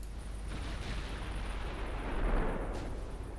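Naval gunfire strikes a battleship in the naval strategy game Ultimate Admiral Dreadnoughts, heard as a rumbling wash of distant blasts and booming impacts, swelling to a louder burst near the end before settling back to a low roar.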